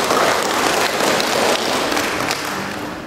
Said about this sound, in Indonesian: Tepuk tangan dulu buat beliau.